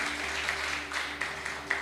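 A church congregation applauds in a dense, steady wash of clapping from many hands, moderately loud and reverberant, with a faint hum running underneath.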